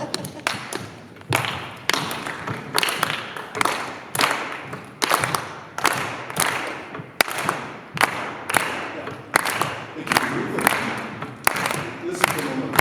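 Audience at a community sing clapping a shared rhythm together, loud group claps in a repeating pattern of bursts and short gaps, with some voices mixed in.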